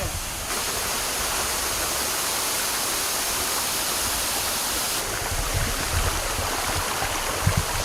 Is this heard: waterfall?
yes